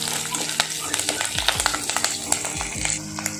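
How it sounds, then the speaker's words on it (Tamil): Onions sautéing with curry leaves for a Tamil ladies-finger tamarind kulambu, a steady close sizzle broken by frequent spoon scrapes and clinks against the pan, with low thuds in the background. "இப்போ வெங்காயம் நல்லா வதங்கியாச்சு"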